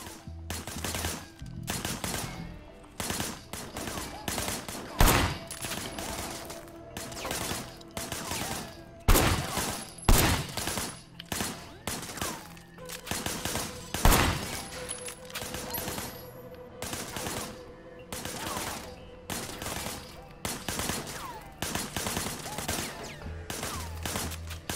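Sleeping Dogs video game gunfire: sustained bursts of automatic fire and single shots crackling throughout, dense and close, with a few louder blasts standing out over the continuous barrage.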